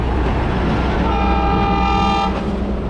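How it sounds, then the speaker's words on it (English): A train on the Strasburg Railroad in Pennsylvania approaches while a steady horn toots for over a second over the loud rumble of the railcars, heard close by. "Other train coming up behind."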